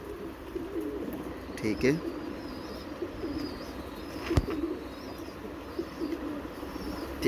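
Pigeons cooing in a breeding loft, soft repeated low coos under a man's speech, with a brief sharp knock partway through.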